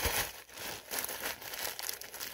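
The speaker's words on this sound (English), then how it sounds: "I just like to kind of crumble it up. And I just do this in a little paper bag," Close, continuous crinkling of a paper bag as bread is crushed and crumbled inside it, rustling in uneven bursts.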